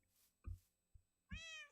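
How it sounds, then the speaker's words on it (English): A single cat meows clearly near the end, a drawn-out rising cry following a few soft low thumps and brief background noise. "I hear a cat."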